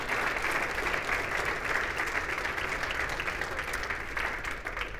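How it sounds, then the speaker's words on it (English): A conference audience at the B20 South Africa 2025 handover of recommendations applauds steadily, a dense, even wash of clapping that holds for the whole stretch and tapers slightly at the end. "a round of applause once again to all the key participants and the chairs who've joined us here today"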